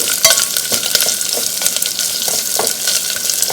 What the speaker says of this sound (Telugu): కొద్దిగా కరివేపాకు. వీటిని కొద్దిగా మగ్గించుకోవాలండి.